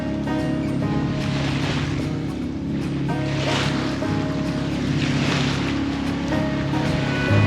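Big ocean swells wash around a sailboat anchored off islands in the Bay of Islands, with a continuous surging rush of water mixed with steady wind noise and a low hull rumble.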